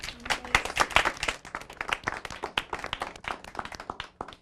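An audience claps and applauds after a speech at a live televised debate, a steady patter of many hands with no voices over it.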